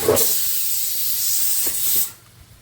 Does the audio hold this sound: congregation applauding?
no